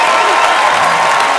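Loud, dense studio audience applause and crowd noise at a television comedy show taping, a continuous close roar of clapping with some cheering mixed in.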